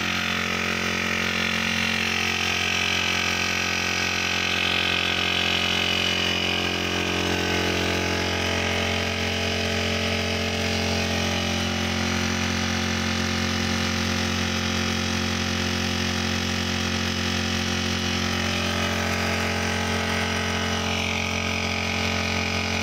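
A paddy harvesting machine's engine running to pump water, a loud continuous idling drone with steady vibration and a low hum that holds unbroken for over twenty seconds, with no speech.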